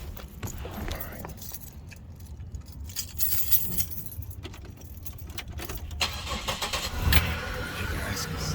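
Keys jangle before a Chevrolet Monte Carlo's engine cranks and catches, then settles into a low idle that grows louder toward the end, recorded nearby.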